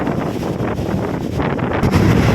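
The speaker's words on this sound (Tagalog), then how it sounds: "Lakas ang hangin din sa tabing dagat." Strong wind roars and buffets the microphone at the seashore during a typhoon, a loud continuous rush with surf from big waves mixed into the noise.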